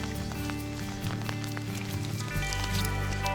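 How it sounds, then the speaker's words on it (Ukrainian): Steady, persistent rain patters on surfaces beside the Dnipro river during a feeder fishing trip, with scattered drops and a low rumble joining partway through. "Дощ такий затяжний."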